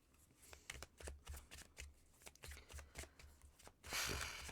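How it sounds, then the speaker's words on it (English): A pink deck of cards is shuffled by hand, with a run of quick riffling bursts in an uneven rhythm, close and fairly quiet, and a louder rush of cards at the end. "The more I shuffle these cards, the more hesitant I am getting."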